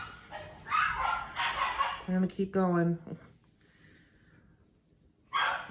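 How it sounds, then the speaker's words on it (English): Dogs bark and yip in a short, close burst indoors, a few sharp barks mixed with a woman's speech, then the room falls quiet. "excuse my dogs, sorry."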